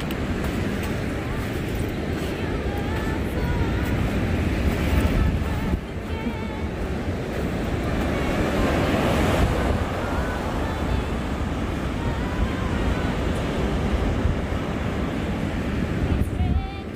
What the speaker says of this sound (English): Craziness of the ocean and how loud it can be.